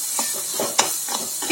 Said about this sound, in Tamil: அதையும் சேர்த்து இந்த மாதிரி கிண்டி விட்டுக்கலாம்.